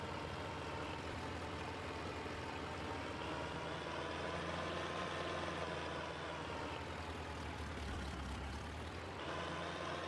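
An Oliver 30-20 tractor engine in Farming Simulator drones under load pulling a lime spreader, a loud steady low rumble that holds constant, with a slight rise in pitch near the end.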